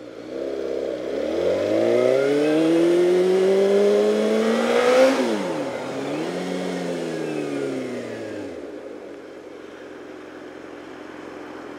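A Suzuki GSX-R motorcycle engine with a faulty throttle butterfly revs up steadily, holds a loud strained pitch, then dips and settles back toward idle, close and alone with no talk.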